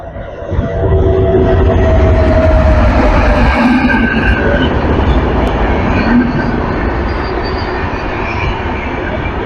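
The Telangana Express train approaching on a railway track, a loud, sustained rumble and clatter of wheels with a high metallic screech and whine, building quickly and holding close by, with a voice faintly underneath.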